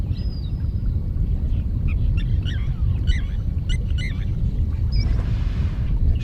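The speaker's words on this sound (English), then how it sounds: "You actually hear some of the birds calling in the background." Several short bird calls chirp and chatter at a distance over a steady low rumble of wind or water, scattered irregularly throughout.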